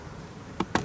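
Honey bees in a window hive being removed hum in a steady low buzz, broken near the end by two sharp, loud knocks in quick succession.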